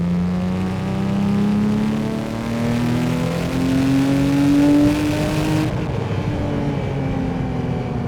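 A Porsche 911 997.1 GT3 engine pulls hard in third gear with sport mode on, a loud steady rising howl that climbs toward 6,000 rpm, then eases off sharply as the throttle lifts and settles into a lower drone.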